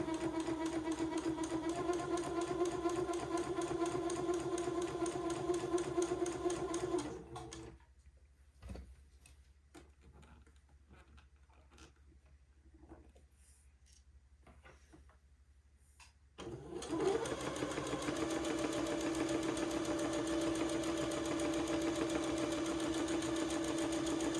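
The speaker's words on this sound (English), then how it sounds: "Take my pins out as I come to them and sew this seam." A domestic sewing machine runs steadily up close, stitching a very small French seam on a baby garment, with a long pause mid-seam while pins are pulled before the even mechanical whir resumes.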